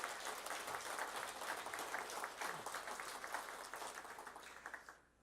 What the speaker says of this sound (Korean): 모두 감사하다고 박수 한번 합시다